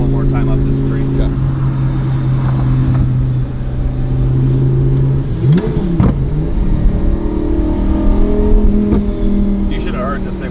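Rebuilt DDE Lamborghini Murcielago pulling hard up a street, a loud continuous engine roar with a sweeping pitch change around the gear shift midway, heard from close with voices talking over it.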